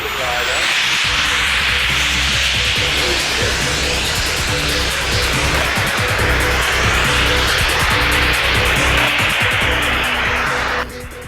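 A jet-powered model glider flies past at a model airshow at Cosford, a loud, steady turbine roar holding for about eleven seconds before cutting down slightly at the end.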